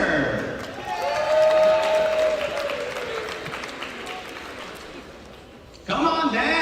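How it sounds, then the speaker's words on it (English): A high school crowd applauds at a college signing day, with sustained clapping and cheering that slowly fades, then a fresh burst of clapping near the end, mixed with voices. "Don't stop clapping."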